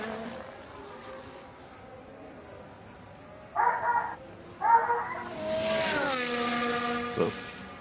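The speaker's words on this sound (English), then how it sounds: "barking very loudly right outside the window." A dog barks loudly right outside a window, two sharp separate barks a second apart, followed by a sustained higher engine-like drone from racing game audio.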